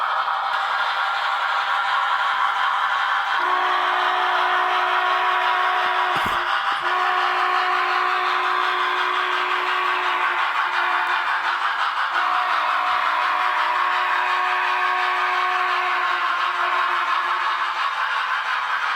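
A model train's steam whistle on a Big Boy locomotive blows in long sustained tones, a steady pitched wail that stops briefly and resumes, over a continuous hiss of steam and rumble.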